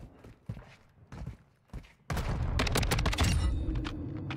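Rapid bursts of automatic gunfire in a first-person shooter game, loud and sustained after a quieter stretch of footsteps and thuds at the start.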